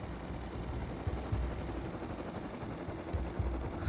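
A helicopter in the survival game Rust, a steady rotor thrum and engine drone with periodic low thumps, heard alone and fairly close.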